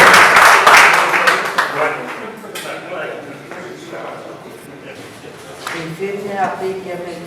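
An audience at a Punjabi festival in Lahore applauds Parveen Malik, a burst of many hands clapping close and loud at the start, fading quickly under a voice speaking into a microphone.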